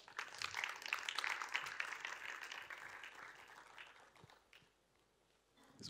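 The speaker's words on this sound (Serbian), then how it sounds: "Mogu i duži aplauz dok dođe čovjek" Applause for a speaker at a conference, a moderate crowd clapping steadily for several seconds, fairly distant and soft, then fading out toward the end with a few stray claps.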